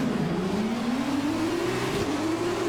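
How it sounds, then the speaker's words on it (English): An F1 car engine revs on the starting grid of the Bahrain race in the video game F1 2020, a steady droning whine that climbs gradually in pitch, loud and continuous. "Revving the engine up"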